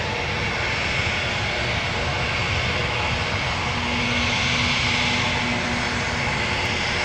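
Piaggio P.180 Avanti turboprop engine roaring steadily at close range near a runway, a loud continuous broadband drone with a faint tonal whine rising slightly midway.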